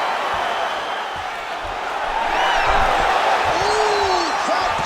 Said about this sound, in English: crowd pops as he gets out again